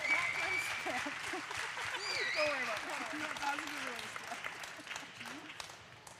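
Applause from an audience at a Canadian women's national soccer team panel, with clapping and crowd noise in the background while someone talks over it and voices rise and fall.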